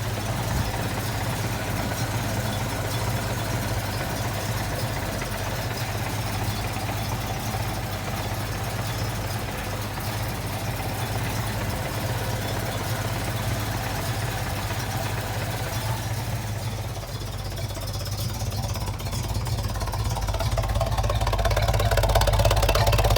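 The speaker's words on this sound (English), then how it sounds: "I'm going to get that engine started." A 1965 Ford Mustang with a 4-speed idles steadily up close, a continuous low engine rumble that swells louder toward the end as the revs rise.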